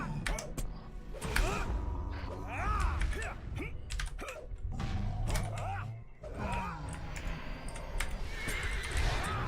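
Horse neighs and whinnies in Lord of the Rings Online repeat over clip-clopping hooves, with steady computer keyboard typing in the background.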